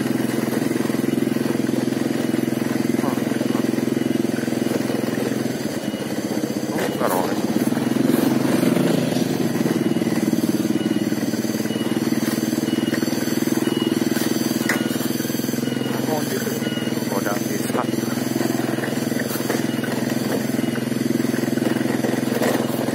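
A motorcycle engine idles and rumbles steadily nearby, with occasional revs and clatter throughout.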